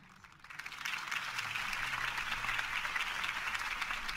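Crowd applause in a Batman video game cutscene, a steady dense wash of clapping that swells in after a brief quiet start and holds evenly loud throughout.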